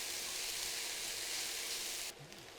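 Noodles, about 100 grams, tossed into a hot pan of stir-fried vegetables for a vegan peanut satay dish, giving a steady, fairly quiet hiss and sizzle that drops off abruptly near the end, with no talking.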